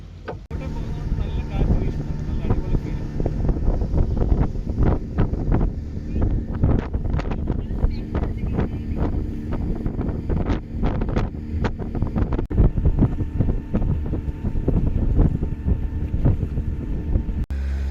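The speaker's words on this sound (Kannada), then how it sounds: "ನಮ್ಮ ಕ್ಲೈಂಟು ನಮ್ಗಾಗಿ ಪ್ರೈವೇಟ್ ಬೋಟ್ ಕಳ್ಸವ್ರೆ, ಅದರಲ್ಲಿ ಹೋಗ್ತಾ ಇದೀವಿ" A private boat travels along the Kerala backwaters, its engine droning low and steady while wind buffets the microphone in rough gusts throughout, with no clear voices.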